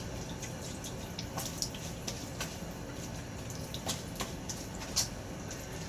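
Tap water runs steadily into a sink while a DG Icarus Admiral razor with a Gillette Nacet blade is rinsed, a constant close hiss broken by scattered drips and small clicks.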